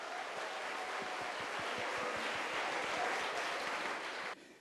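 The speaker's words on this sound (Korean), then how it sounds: "박수 부탁드립니다." Sustained applause from an audience at a youth mock trial competition opening ceremony, dense clapping held evenly for several seconds before cutting off abruptly.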